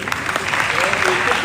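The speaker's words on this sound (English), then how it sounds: "You clap for yourself." Brief applause breaks out at an alumni homecoming gathering, a dense rattle of clapping from the audience with a voice speaking over it for the short burst.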